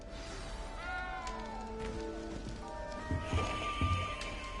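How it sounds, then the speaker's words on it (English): A small frightened cat in Hogwarts Legacy gives a few drawn-out, tonal meows over a low game background hum, fairly faint and close, with some thuds and rustles near the end. "You don't need to be frightened, little cat."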